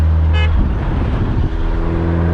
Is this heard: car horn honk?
yes